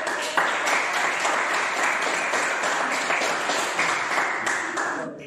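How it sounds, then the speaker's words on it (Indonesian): Steady applause from a classroom audience for a group that has just presented its discussion results, a dense continuous patter of many hands clapping at close range, holding level before tapering off at the end. "berikan aplaus untuk"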